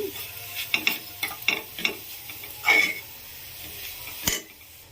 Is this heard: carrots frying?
yes